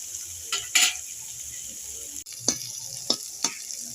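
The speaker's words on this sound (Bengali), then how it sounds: "এবার এটা আমি ভেজে নেব।" Dried red chillies and onions fry in a pan with a steady sizzle, broken by a few sharp scrapes and clinks of a spatula stirring against the metal.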